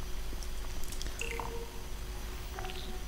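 A Portal 2 button press gives a squishy, dripping electronic chirp: a few short descending tones, then a fainter pair near the end, over a steady low hum.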